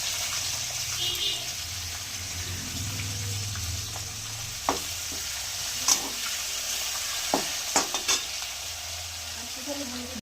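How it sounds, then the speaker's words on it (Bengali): Onions fry in a pan of oil with two bay leaves, a continuous gentle sizzle overlaid by scattered clacks and scrapes as a spatula stirs them. "পেঁয়াজগুলো একটু ভেজে নেবো লাল করে।"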